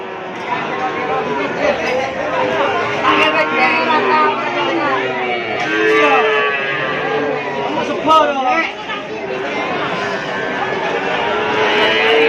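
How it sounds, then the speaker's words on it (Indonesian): Madura cattle low at Keppo livestock market amid constant crowd chatter, with occasional moos rising over people talking nearby. "Ini sapi Madura asli."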